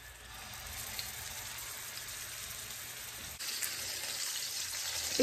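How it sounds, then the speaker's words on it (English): Turkey meatballs searing in hot oil in a pan, giving a steady, close frying sizzle with crackle that grows a little louder partway through, with no talking. "start searing your meatballs"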